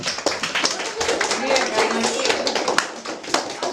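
Hall audience claps to welcome a competing team at a solfeggio contest show, a steady dense patter of many hands, loud and continuous for a few seconds, with a faint voice underneath.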